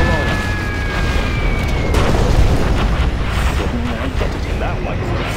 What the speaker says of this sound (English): Cruise missiles ready.